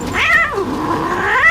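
A cat gives a long, drawn-out meow that rises, dips and rises again, close and fairly loud, with no talking over it.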